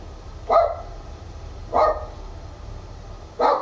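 Dogs bark outdoors in three separate single barks spaced over a few seconds, moderately distant against a low background hum.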